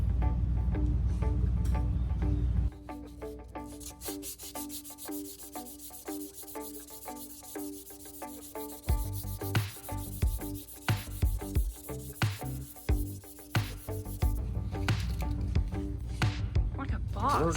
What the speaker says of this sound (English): You want to sand the drive shaft?